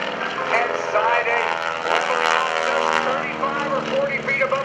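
A propeller airplane flying low-level aerobatics at a naval air station airshow, its engine droning steadily and close with shifting pitch through a rolling turn, under a loud announcer's voice.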